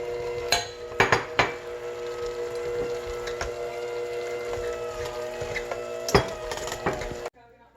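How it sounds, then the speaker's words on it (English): Kale, onions and bacon are tipped into a pan, with a few sharp metallic clanks and thumps of utensils against cookware over a low, steady background hum. "let's add in the kale and onions and bacon"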